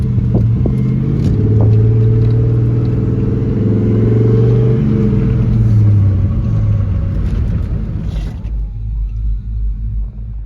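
Two Ford Mustangs cruise around town, a steady loud engine rumble with slight revving rising and falling, fading and dropping off near the end, with no talking.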